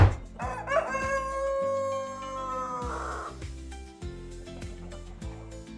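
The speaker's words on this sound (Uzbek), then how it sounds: "Yet xazinaning biri deya ta'riflanuvchi parranda, ya'ni tovuq." A rooster crows among chickens, the call loud and near over a busy layered background with music-like tones, a single drawn-out crow standing out in the middle.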